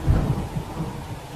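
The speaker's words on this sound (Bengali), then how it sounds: "এদিকে বৃষ্টি পড়ছে অঝরে।" A thunderstorm effect for a spoken story: a low, close rumble of thunder rolls over heavy, steady rain, the rumble strongest at the start and easing as the rain continues on its own.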